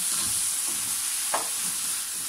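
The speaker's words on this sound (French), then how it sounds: "Donc là, on vient mélanger rapidement" Spoon stirring paprika and mustard into a minced beef mixture in a hot pan, a soft scraping swirl over a constant sizzle, with one brief louder scrape partway through.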